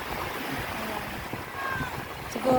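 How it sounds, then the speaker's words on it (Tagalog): Strong sea waves roll in at a night swimming spot in Camarines Sur, making a steady, broad roaring wash that fills the whole stretch, with a slight surge near the end. "Ang lakas pala ng alon dito"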